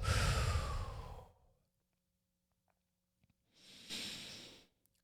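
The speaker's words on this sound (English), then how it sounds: "Take a couple deep breaths." A person takes deep breaths while meditating: one long, loud exhale that fades out, a quiet pause, then a second softer inhale-exhale, close and alone.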